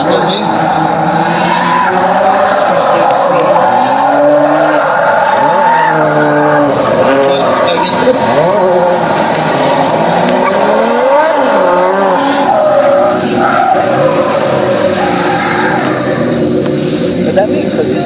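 Drift cars warming up on a track at Archerfield, engines droning and revving continuously with tyre squeal throughout, loud and close, while a commentator talks over them.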